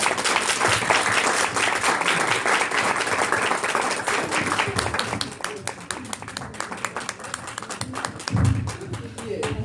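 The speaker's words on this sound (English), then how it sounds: "Give her a round of applause, you guys." A crowd gives a loud round of applause for a speaker, sustained clapping with sharp individual claps standing out as it thins later, with voices heard over it.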